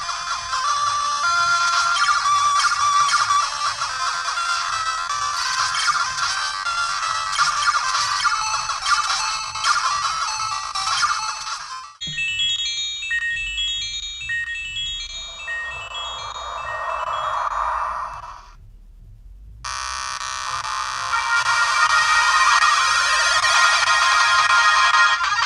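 Game Boy Color video game chiptune music and bleeps playing on a handheld clone console, bright electronic melodies that shift between tracks with brief pauses, loud and continuous with no talking.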